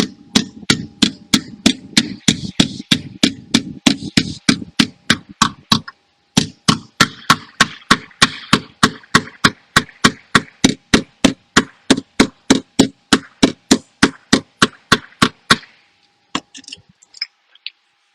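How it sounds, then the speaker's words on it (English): A shrinking hammer taps down a dent in a car body panel around a welded stud, dozens of sharp, evenly spaced metallic strikes in a steady rapid rhythm, close and loud, with one brief pause midway and no talking. "I'm using a shrinking hammer to shrink down the dent"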